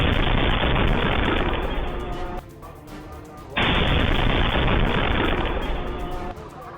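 Loud gunfire and blasts inside a Shia mosque in Islamabad during a suicide attack on worshippers at prayer: dense, sustained crackle of shots that drops briefly midway, then resumes at full strength, with no speech.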